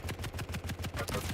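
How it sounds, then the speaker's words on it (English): Rapid heavy machine gun fire in the arena shooter Quake, a tight burst of about a dozen evenly spaced shots across under two seconds, loud and close with no talk. "Taking around 105 damage from that last heavy machine gun battle"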